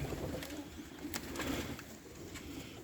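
Gdańsk Falcon pigeons in a loft give soft, low cooing over a steady, faintly noisy indoor background, with a few brief rustles and taps.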